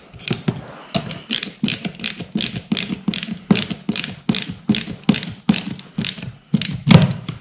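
Repeated ratcheting clicks from a screw being driven into an Ikea Malm chest of drawers, about a dozen close, loud bursts in steady rhythm with brief pauses between turns.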